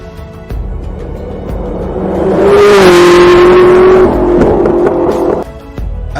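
SSC Tuatara hypercar engine revving loudly and close, climbing in pitch to a sustained high wail before easing off, with no talk over it.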